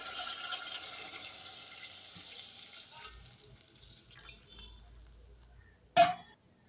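Water runs into a pot for saag, a steady trickling pour that fades and then ends with a brief louder splash near the close.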